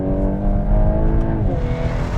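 Volkswagen Golf R Mk8.5 engine on the overrun while lapping a racetrack: a loud, steady, close-up engine drone with layered harmonic tones, one shifting pitch partway through, lasting the whole stretch with no talking.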